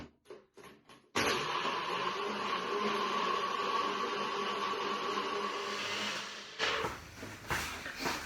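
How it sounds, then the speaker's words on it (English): Food processor blitzing a fruit smoothie, starting with a few short pulses, then a loud continuous whirring run of about five seconds before it stops, followed by clattering handling sounds. "all you've got to do is blitz it up"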